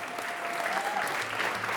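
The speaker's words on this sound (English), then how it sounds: "I'd like us to give a huge round of applause to Diana right now" Sustained audience applause at a charity gala dinner, a steady wash of many hands clapping at close range, filling the whole short stretch without voices on top.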